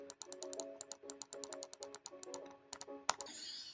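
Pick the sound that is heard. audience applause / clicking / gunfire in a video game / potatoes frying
clicking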